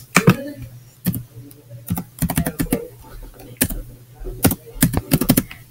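Quick bursts of clicking keystrokes on a computer keyboard while entering an email and password, irregular clusters of crisp taps separated by short pauses, close and clear.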